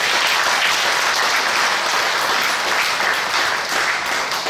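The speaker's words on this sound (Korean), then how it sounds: "인사로 들어가실 때 박수 주시기 바랍니다." Congregation in a church applauding as someone goes in after a greeting, a dense, steady wash of many hands clapping that stays loud and even throughout with no voices on top.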